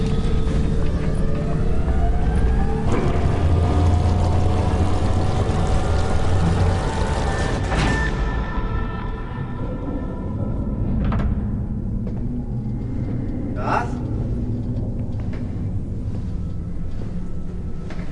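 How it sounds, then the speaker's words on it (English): Submarine engines start up with a heavy, steady low rumble and whine, a rising tonal drone settling into a constant loud hum with occasional clanks, no voices. "Starting engines."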